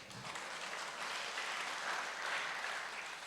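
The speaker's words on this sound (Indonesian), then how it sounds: "Tepuk tangannya jangan tanggung-tanggung, tepuk tangan ya." An audience at a church gathering claps in a soft, even wash of many hands, distant and fairly quiet, holding steady without a break.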